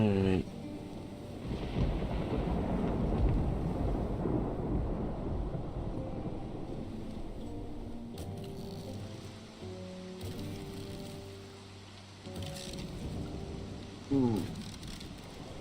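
A video-game ship sails through a thunderstorm, with a steady roar of wind and rain, low rumbles and creaking, and a person briefly exclaiming over it.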